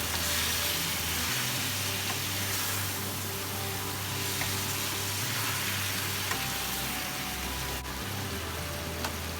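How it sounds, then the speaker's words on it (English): Onions and garlic frying in a pan while cooking dinner give a steady, close sizzle with soft crackle throughout, with no one talking. "Adding the onions and garlic for more flavor."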